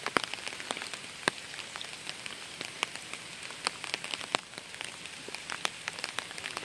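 Steady rain pattering on surfaces in a riverside village, a dense even hiss broken by scattered sharper drops, continuous and fairly close with no voices.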